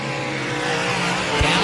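Dirt track race cars battle for the lead in a heat at Wayne County Speedway, engines roaring in a steady, loud drone with a brief low thump near the end, faint commentary underneath.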